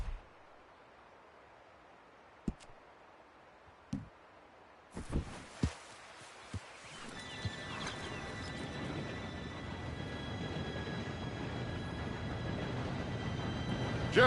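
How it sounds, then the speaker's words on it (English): A train pulls in within Red Dead Redemption 2. A few sharp clicks and knocks come first, then a broad rumble swells and holds with thin squealing tones riding on top. "Train should be here any minute now"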